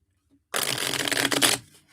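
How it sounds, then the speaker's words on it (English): A deck of reading cards is riffle-shuffled once close by, a dense burst of rapid flapping and ruffling lasting about a second, set against a quiet room. "Shuffle these up."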